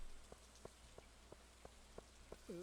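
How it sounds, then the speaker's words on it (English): Soft rain falls in the farming game Stardew Valley, a faint steady patter with evenly spaced light ticks and a brief chime near the end, with no talking. "Alright, it's raining."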